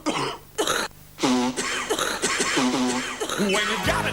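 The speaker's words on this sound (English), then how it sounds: "When you've got a nasty cough and you're feeling kind of rough" Several harsh, phlegmy coughs and throat clearings from one person in a cough medicine television advert, close and loud, broken into short bursts with brief pauses between them.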